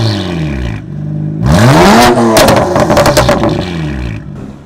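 German twin-turbo car engine revving hard up through the range and easing back down, a loud close roar with a rising whine.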